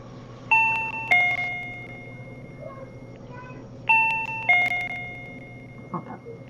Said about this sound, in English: We have a doorbell?